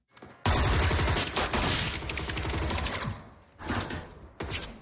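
Gunfire from a shootout scene in the sci-fi TV series The Expanse, a loud dense burst of rapid overlapping shots that rattles on for several seconds, eases off, then returns in two shorter volleys.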